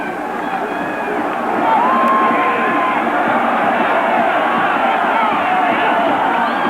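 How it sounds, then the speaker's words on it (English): A large Oklahoma football crowd in a stadium during a 1985 game against SMU, a sustained roar of voices with a swelling boo, steady and dense throughout. "the Oklahoma fans are booing a little bit about that play"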